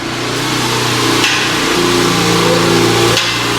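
A Porsche's engine revs nearby, a loud, sustained mid-range roar with steady harmonic tones and two short sharp knocks, heard alone without talk.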